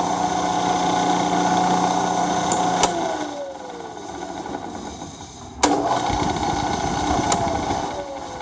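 Milling machine running in low range at 60 RPM while machining an adapter plate, a steady mechanical hum and whine that drops briefly, then resumes, with a few sharp metallic clicks.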